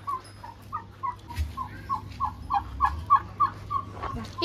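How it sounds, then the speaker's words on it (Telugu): Chickens of varied breeds at an exotic animal park cluck in a run of short, clipped calls that come quicker and louder toward the end, close by over a low background hum. "ఇక్కడ కానీ కోళ్ళే, ఏవో వెరైటీ కోళ్ళు ఇక్కడైతే."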